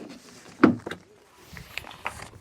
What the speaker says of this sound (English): Open this door slightly